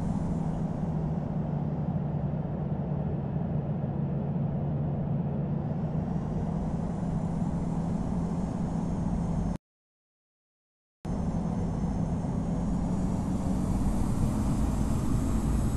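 A Boeing 787-9 in the Infinite Flight simulator taking off from Runway 04 Left, a steady, loud jet engine roar with a strong low hum that holds for the whole stretch and cuts to silence for about a second and a half midway.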